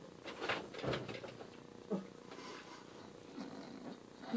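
A cat purrs quietly close by, a soft low rumble broken by a few faint taps and rustles.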